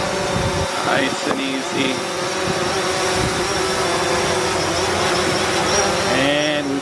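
A DJI Mavic 2 drone flies outdoors in gusty wind, its steady high-pitched propeller whine continuous throughout, with brief pitch shifts as it maneuvers and someone talking briefly over it.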